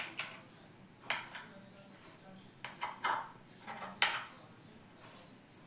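Faint scattered clinks and scrapes of a spoon turning against a plate as it lifts soft doi pitha, several light taps spread over a few seconds with quiet room noise.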